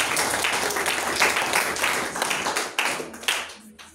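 Congregation clapping and acclaiming the Lord during a church service, a dense wash of claps and cheering voices sustained throughout, loud and close, with a few sharper bursts near the end.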